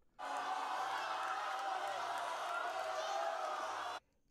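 Crowd of participants at an official ceremony applauding a ministerial delegation as it arrives, dense continuous clapping that starts abruptly and stops sharply, faint and distant.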